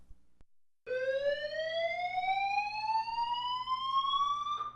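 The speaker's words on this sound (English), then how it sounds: "when the fire alarm sounds" A fire alarm sounds alone, a steady, loud electronic tone that rises slowly in pitch and keeps going without a break.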